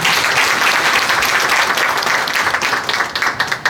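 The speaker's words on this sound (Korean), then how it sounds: "함께 해주신 우리 김양호 대표님께 다시 한번 큰 박수 보내주시기 바랍니다." An audience at a Korean book launch gives loud, full applause for Kim Yang-ho, with dense clapping from many people that holds steady for nearly four seconds before breaking into a few sharper final claps.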